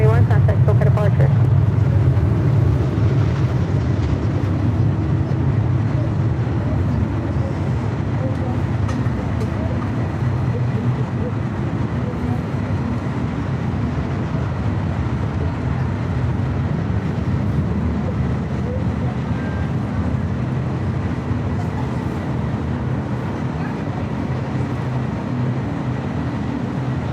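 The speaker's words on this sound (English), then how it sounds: "About a 757 takeoff here on the north side to San Salvador" A Boeing 757 takes off from the north side of LAX, bound for San Salvador, with a loud, steady, broad jet roar and rumble that holds for the whole stretch and eases slightly toward the end.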